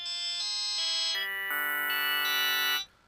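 A custom waveform plays on the Vital wavetable synth as a bright, buzzy, nasal sustained tone. It steps through several pitch changes over about three seconds and then stops abruptly.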